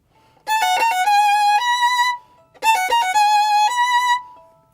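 Violin playing two short practice phrases of bowed notes in first position, a 3-1 finger pattern, clear and close, each a few seconds long with a brief pause between them.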